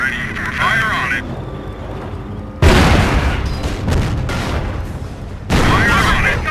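Pershing tank cannon blasts in the World War II strategy game Company of Heroes, two heavy booming bursts with rumbling tails, loud and close, amid battle noise.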